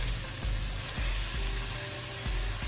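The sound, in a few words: stirring onion frying in a pan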